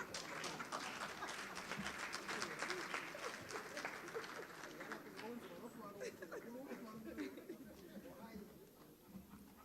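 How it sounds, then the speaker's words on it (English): Applause from a gathered audience at a government launch event, dense and sustained for about nine seconds, thinning slightly toward the end, with crowd chatter and voices mixed in underneath. "that round of applause man"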